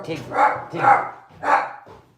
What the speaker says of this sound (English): It's just a dog going for a walk.